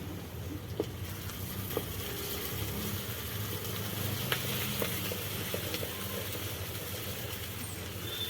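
Fresh beans and collard greens fry in hot oil on a mud stove, a soft continuous sizzle and crackle with faint stirring under it.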